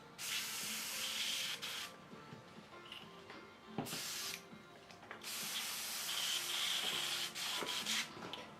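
An airbrush sprays blue Citadel paint in several sustained bursts of airy hiss, each a second or two long. Quiet gaps with faint clicks fall between the bursts.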